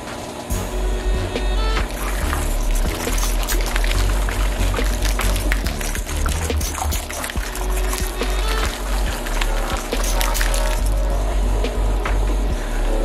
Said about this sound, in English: we're just gonna pour it straight into the pool